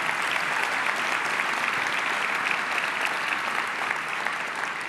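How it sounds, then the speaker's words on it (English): Sustained applause for the wait staff at a downtown civic luncheon, a steady, even roar of many people clapping throughout. "Let's give them a big round of applause in trying to serve all these people."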